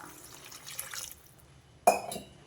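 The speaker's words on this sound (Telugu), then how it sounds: "దీంట్లో నేను ఇంకొంచెం వాటర్ వేస్తా" Water splashes in with a short burst after a quiet stretch, a brief pour into a pot of tamarind broth that trails off into dripping.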